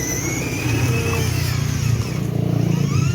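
A child's ride-on toy jeep runs with a steady, close motor drone and slight revving, continuous throughout with no talking.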